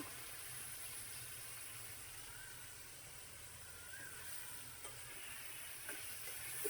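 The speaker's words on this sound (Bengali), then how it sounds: "ভালো করে এবার এটাকে সুন্দর করে কষাইতে হবে" Bottle gourd and stinging catfish (shing fish) sizzling and frying in a pan as they are sautéed, a steady soft hiss throughout with occasional faint clicks of stirring.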